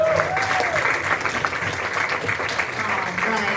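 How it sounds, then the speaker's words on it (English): A comedy club audience applauds a comedian taking the stage at a stand-up show, a dense, steady wash of clapping with some whistles and cheering voices mixed in, lasting throughout. "Please give a big round of applause for Ann Armstrong."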